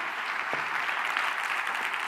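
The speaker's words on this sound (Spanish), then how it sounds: "Por favor, un aplauso para ella." An audience at a panel on women in society applauds a guest from the UN Committee on Enforced Disappearances, with a short, even burst of dense clapping throughout.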